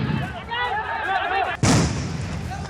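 A single sharp gunshot-like bang rings out as police fire into the air during a clash at a police station, landing after a stretch of crowd noise and voices, loud and close with a brief decaying tail.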